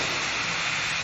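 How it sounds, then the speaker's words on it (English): Espresso machine steam wand purging dry steam, a loud, close, continuous hiss held steady for about a second. "The cool thing about this is that it's dry steam right away."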